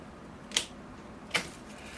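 Two sharp, crisp cuts through a ficus bonsai trunk as its upper part is pruned away, close and isolated, spaced under a second apart against a quiet background.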